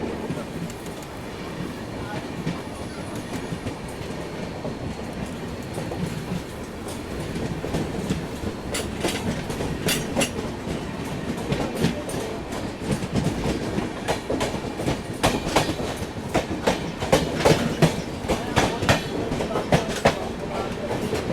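Darbhanga–Howrah Express rolling along the rails, a steady rumble with rhythmic clickety-clack wheel beats and sharp joint knocks that grow louder toward the end, close and continuous.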